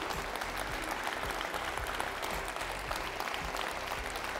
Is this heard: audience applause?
yes